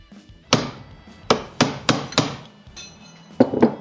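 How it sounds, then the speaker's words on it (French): Hammer striking sharp metallic blows around a car front-suspension part to drive it out, about seven hits in an uneven rhythm, close and alone. "on va venir tapoter sur tout le tour, sur l'autre, l'intérieur, pour le chasser"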